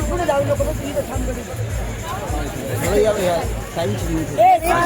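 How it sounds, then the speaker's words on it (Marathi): Busy crowd babble at a vegetable market in Akole where tomatoes are being sold, a steady murmur of many overlapping voices with one nearer voice rising briefly near the end. "मित्रांनो बघू शकता तुम्ही गर्दी आज टोमॅटोला"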